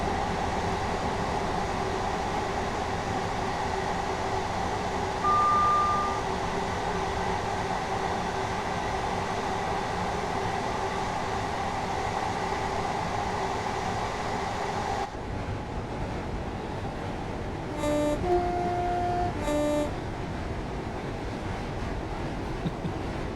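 Train rolling along in Train Sim World 2, a steady low rumble of wheels and running gear with a faint tonal whine, shifting to quieter interior ambience later with a few brief chimes or beeps.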